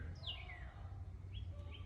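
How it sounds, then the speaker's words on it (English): A bird sings outdoors on a sunny day, giving a few thin, high chirps and short whistled phrases that rise and fall, faint and somewhat distant over a steady low background hum. "Listen to the bird."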